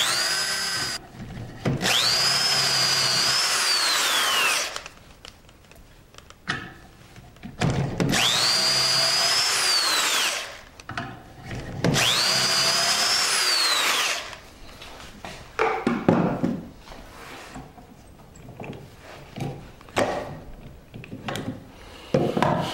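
A power drill bores dowel holes in wood using a Dowelmax jig while building a workbench, with three loud sustained whining bursts of about three seconds each separated by pauses, followed by lighter handling and rubbing noises.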